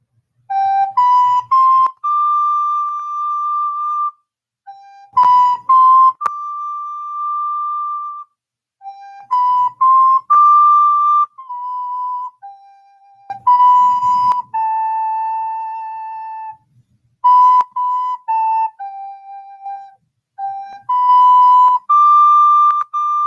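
When the Saints Go Marching In played as a clear solo melody on a recorder-like wind instrument, notes in short phrases with sustained held tones and brief pauses, alone with no talk.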